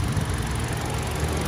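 The 1.4-litre engine of a 2020 Hyundai Accent with an automatic gearbox idles close by, a steady, even hum and rumble with no voices.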